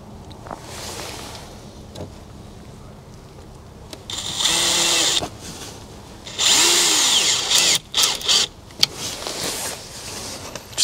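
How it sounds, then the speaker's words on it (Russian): A power screwdriver drives yellow self-tapping screws into OSB boards on facade battens in several short bursts of whirring, with quieter handling noises between the runs. "И 25-ми саморезами обычными, желтыми, мы прикручиваем эти ОСП"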